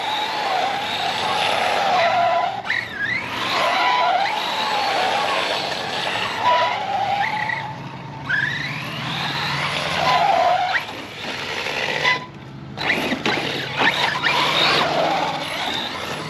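An Arrma Mojave 4S RC truck tears across park grass, its electric motor whining and rising and falling steadily through repeated passes, loud and close throughout.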